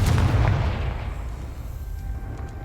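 A Confringo fire spell blast in the Hogwarts Legacy video game, a heavy booming burst up front that rolls off into a fading rumble and crackle.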